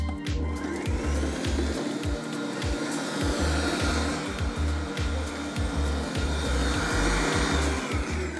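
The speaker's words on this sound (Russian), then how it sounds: "берем Q-образную насадку для миксера и ставим масло перемешиваться примерно на 2 минутки" A stand mixer with a paddle attachment beats butter at medium speed, a steady loud electric motor whine with a rhythmic thumping pulse as the paddle churns, continuous and close for the whole stretch.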